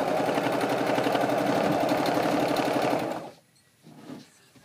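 Sewing machine in need of oiling stitches steadily in a fast, rattling mechanical rhythm for about three seconds, then stops, leaving quiet handling noises.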